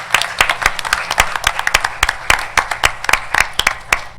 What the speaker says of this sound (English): We can clap for him, he's not here.